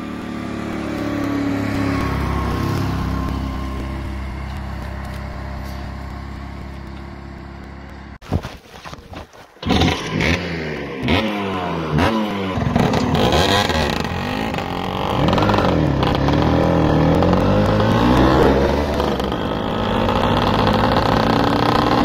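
A Vespa PK 50 S Elestart scooter with a 130 DR kit runs on a road test. Its small two-stroke engine drones steadily, breaks off in a brief choppy stretch of blips, then revs and pulls away with rising and falling pitch, loud and close throughout.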